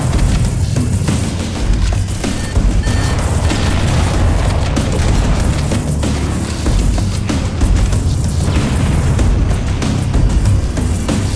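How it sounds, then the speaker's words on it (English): Engine reactor explosion in the video game Halo: a loud, dense, continuous roar of booming blasts and rumbling debris that fills the whole stretch without letup, with no talk. "That should be enough to trigger a wildcat explosion of the engines."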